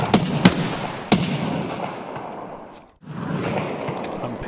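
Gunfire in the game Escape From Tarkov: a few sharp close shots in the first second, then a dense rumbling wash of distant fire that briefly cuts out and returns.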